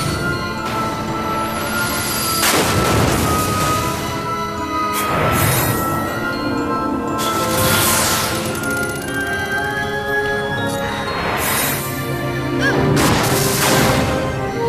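Enemy explosions in Final Fantasy XII, several loud booming blasts spaced a few seconds apart over a continuous game music backdrop.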